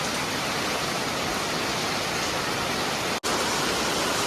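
Heavy summer rain pours down in Mumbai, a dense, steady hiss of falling water that carries on unbroken except for one momentary cut near the end.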